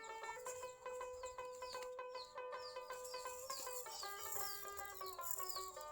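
Chickens cluck and call in a repeated, tonal run of notes that is steady and faint, coming from somewhere nearby around a pigeon yard in Bangladesh. No voices are heard.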